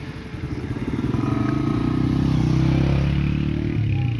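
Small motorcycle-type engine of a rickshaw passing close on a narrow canal bridge, a steady loud puttering drone with a rhythmic pulse that swells and holds over a few seconds, no talk.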